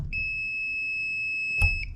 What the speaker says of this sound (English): stick it in the outlet. And you hear it beep and turn red